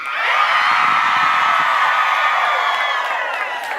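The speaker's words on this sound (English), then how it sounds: "on the count of 3, I want you to scream as loud as possible" A large audience of women on their feet screams at full volume, one dense sustained roar of high shrieks and yells that holds for several seconds before tapering slightly.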